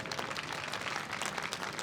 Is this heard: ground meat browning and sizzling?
no